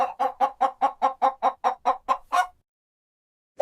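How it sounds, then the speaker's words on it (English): A chicken clucks in a fast, even series of about a dozen close, clear clucks ending in a slightly longer squawk, followed by silence. "It's a chicken."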